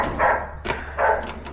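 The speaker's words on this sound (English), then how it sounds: "My dog's barking." A dog barks nearby, two or three sharp, loud barks with short gaps between them and no talking over them.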